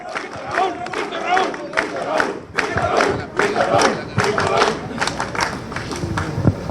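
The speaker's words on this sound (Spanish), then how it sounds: "Fuerte, fuerte aplauso." Crowd at an Aprista political rally in Peru cheering and shouting in bursts, with chanting voices and scattered clapping, loud and close throughout.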